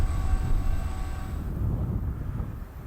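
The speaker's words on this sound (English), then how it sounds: "The train coming out on the north leg is, I believe, the Auburndale local." The Auburndale local freight train rolls out on the north leg of the wye at Winston in Lakeland, a steady low rumble of railcars at moderate distance with a faint high tonal whine that fades midway.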